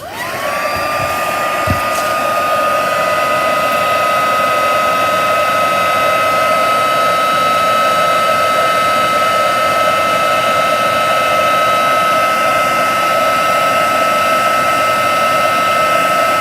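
A heat tool blows steadily and loudly, melting embossing powder on vellum, holding one continuous roaring hiss for the whole span after a brief spin-up.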